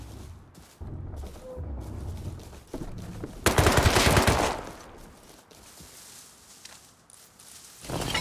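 Video game outpost turret firing, with bursts of rapid automatic gunfire, a dense loud volley in the middle and scattered shots before and after, some footsteps mixed in.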